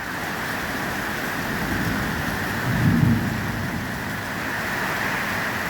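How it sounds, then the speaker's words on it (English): Steady heavy rain hisses throughout a crazy wind storm in Charters Towers, and a short low thunder rumble swells and fades near the middle under the constant downpour, with no talking. "Watching TV and then I heard it was thunder."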